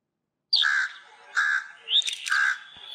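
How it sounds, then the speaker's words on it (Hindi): A crow cawing in a children's animal-sound quiz: loud, close, harsh caws, three or four in a row with short gaps between them. "कव्वे की थी"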